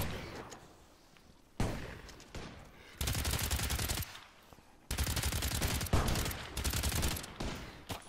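Handgun fire in the game Earthfall, bursts of sharp rapid shots in several loud clusters separated by quieter gaps, close and without talk.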